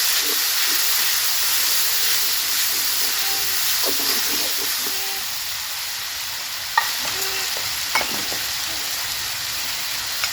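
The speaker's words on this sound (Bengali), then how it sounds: "রসুন বাটা দিয়ে আমি হালকা একটু নাড়াচাড়া করে নেব।" Garlic paste sizzling and hissing in a hot pan while being stirred, a steady frying hiss with faint scraping and a few light clinks of the spoon against the pan.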